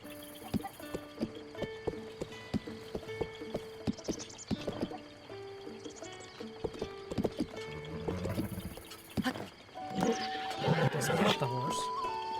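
A horse in the video game The Legend of Zelda: Breath of the Wild clip-clops with rhythmic hoofbeats and lets out several neighs and whinnies, mixed with game music and someone talking.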